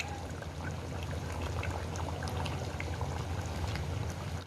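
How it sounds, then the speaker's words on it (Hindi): Beef frying in oil in a pan for a Lahori street-style beef bong, a steady dense sizzle and crackle with bubbling, close and continuous throughout, no talk. "अब अच्छी तरह इसकी भुनाई करेंगे ताकि इसकी जो स्मेल है वो ख़त्म हो जाए।"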